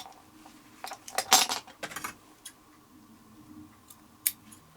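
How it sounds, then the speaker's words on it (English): Scissors and a craft knife trim excess clear vinyl or fabric on a handmade project bag, giving a cluster of close, crisp snips and clinks in the middle, then a few scattered faint clicks in a quiet room. "So then I just take like an X-Acto knife and some scissors and cut out the excess."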